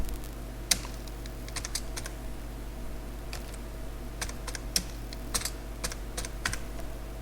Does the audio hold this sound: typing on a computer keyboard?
yes